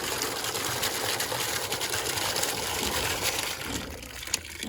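Water gushes steadily from a newly run farm water line, a constant loud rushing flow with no pauses.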